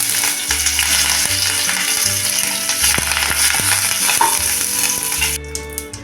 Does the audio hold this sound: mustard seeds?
yes